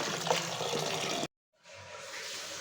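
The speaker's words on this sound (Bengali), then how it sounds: "শাকগুলা ধোয়া হয়ে গেছে" Tap water pouring steadily into a sink while leafy greens are washed in a kitchen, loud and close, briefly cutting off before running again more softly.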